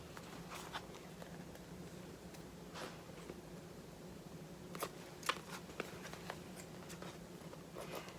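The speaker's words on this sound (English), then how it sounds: "I am just going to take my scissors, and this is just how easy it is to cut." Scissors snipping through a thin sheet of dried acrylic paint skin shaped like a leaf, quiet close-up clicks and crisp cuts scattered irregularly over a low background hum.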